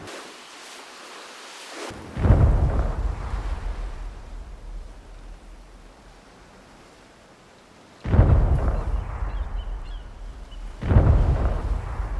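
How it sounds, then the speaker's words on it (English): Cannons fire in a video game and their shells crash into the water, heard as three heavy thunderous booms spaced apart, each trailing off into a long rumbling decay. "the cannons firing and hitting the water is cool"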